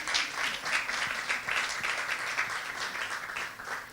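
An audience claps steadily, a dense, even wash of many hands applauding at moderate distance for several seconds without pause.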